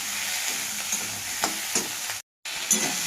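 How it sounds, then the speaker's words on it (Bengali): Chopped vegetables frying and being stirred in a pan for a fish curry, a steady close sizzle with scraping stirs, broken by a brief silent gap before resuming. "এখন আমি কেটে রাখা সবজিগুলো দিয়ে দিলাম। এখানে ভালো করে আমি একটু ভেজে নেব।"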